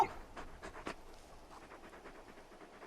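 A big dog companion in the Final Fantasy 16 video game pants quietly in quick, soft, breathy puffs, faint and continuous with no talk.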